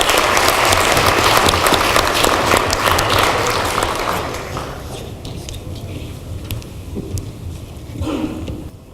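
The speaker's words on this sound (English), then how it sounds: "Having a round of applause for these teams." An audience at a high school quiz competition applauds the teams after a round, loud dense clapping for about four seconds that thins into a few scattered claps with a brief swell near the end.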